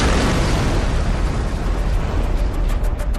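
A tank main gun firing during the 1973 October War battle on the Golan Heights, a loud, dense, rumbling blast that fills the whole clip and fades slightly toward the end, with no voices.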